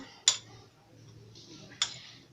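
A spoon clinks twice against a bowl while stirring a homemade face paste, two short bright taps about one and a half seconds apart in a quiet room.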